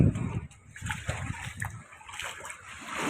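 Water splashes and sloshes as slippers are rinsed, with irregular splatters and trickles close by, a voice briefly audible underneath.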